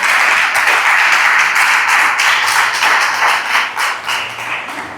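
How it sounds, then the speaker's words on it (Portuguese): A church congregation applauds the Lord after a healing testimony at a family worship service, a dense, loud, steady wash of many hands that eases slightly toward the end. "pode aplaudir ao Senhor"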